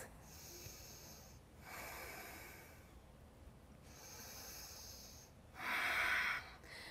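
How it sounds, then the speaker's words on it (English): Slow, deep breathing in a yoga class, with about three long airy inhales and exhales in steady rhythm, close and soft, with no talking. "2 more deep breaths."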